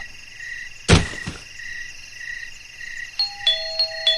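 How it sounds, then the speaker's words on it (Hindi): After a sharp thump, an electronic doorbell chimes a short run of bright, repeating tones in a quiet room. "मेरी डोरबेल बजाते ही स्वीटी ने घर का दरवाजा खोला"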